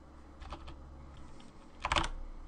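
Keys on a computer keyboard clatter in two short bursts, a light flurry first and then a louder, quicker run of presses, quiet and close with no voices.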